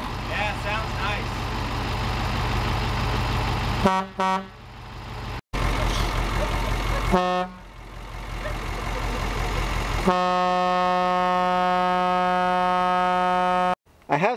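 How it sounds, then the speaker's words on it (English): New Grover air horn mounted on a Kenworth K100 truck cab, blasting several loud, close, sustained tones with short breaks between, the last blast held for about four seconds. "We got our new Grover air horn installed, at least mounted to the cab."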